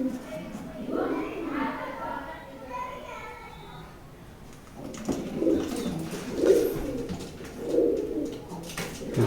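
Wild pigeons, white and grey, coo in soft, low, repeated calls, a few seconds apart, with faint background voices and outdoor noise.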